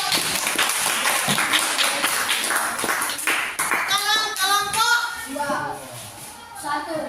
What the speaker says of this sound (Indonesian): Jadi berikan aplaus untuk kelompok